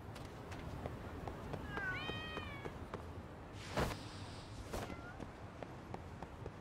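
A cat meows in the video game Lost Judgment, a short plaintive meow near the middle over quiet game ambience and footsteps, with a couple of sharp louder sounds and a second faint mew after it.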